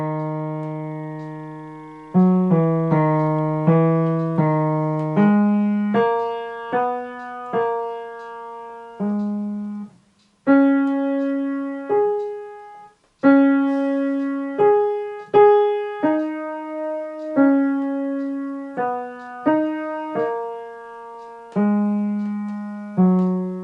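Bydlo from Mussorgsky's Pictures at an Exhibition: a slow, lumbering melody low in the bass, played alone as a series of sustained, separate notes with short pauses between phrases.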